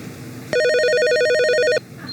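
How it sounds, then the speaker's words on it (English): An old-fashioned telephone bell rings in one sustained, loud burst of rapid metallic trilling, lasting just over a second against a quiet room, with no voices. "That's how phones used to sound in the old days."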